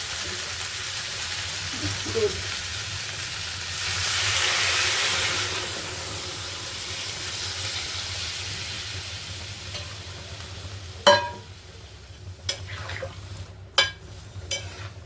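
Ridge gourd and well-fried spices sizzle steadily in a pan, the hiss swelling as milk is poured in, followed by a few sharp clicks of a spoon stirring near the end.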